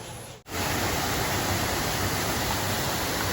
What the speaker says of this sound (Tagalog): Yan ang waterfalls.